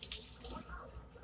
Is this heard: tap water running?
yes